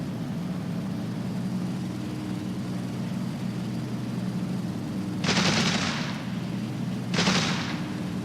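Aircraft guns in the War Thunder combat flight game, fired in two short bursts over a steady droning engine, each burst roughly a second long and fairly loud.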